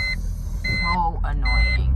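A car's warning chime beeps repeatedly inside the vehicle, a steady pattern of high electronic tones over engine hum while someone talks.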